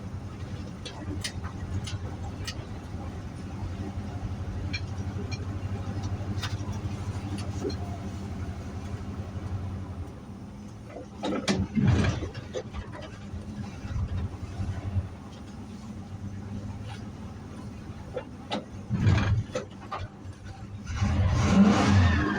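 A 1978 Dodge D-200 truck engine with a failing carburetor runs roughly at idle and then revs in several uneven bursts, close and fairly loud, with people talking over it.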